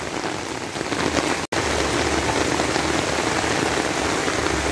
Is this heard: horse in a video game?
no